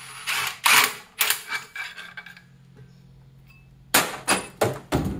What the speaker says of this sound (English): And then back the clutch bolt back out.